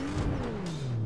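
A Porsche engine in Fortnite revs loudly and close, its pitch gliding steadily downward as the car eases off, with no talk over it.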